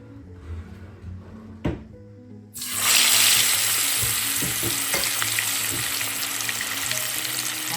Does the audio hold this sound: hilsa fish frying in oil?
yes